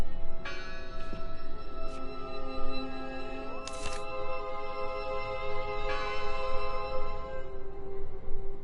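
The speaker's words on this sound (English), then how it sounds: "The bell! They're still in there!" Church bell tolling in the horror game Draugen: repeated resonant strikes with long ringing overtones that hang and overlap, set against a low ambient drone, with sharp clacks mixed in.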